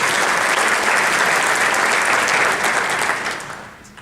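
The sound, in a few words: audience applause for award winners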